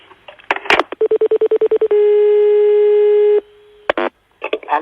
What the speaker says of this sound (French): vous allez être appelé par monsieur Ledoux qui est lui de Massiac